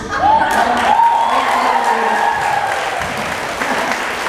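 A church congregation at a Wednesday group meeting in Hong Kong breaks into loud, steady clapping over a raised voice calling out, the applause fading slightly toward the end.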